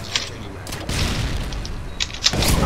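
Sharp gunshot booms in an online Modern Warfare 2 match, including a sniper rifle shot, loud and close amid ongoing game noise, with a few distinct blasts standing out.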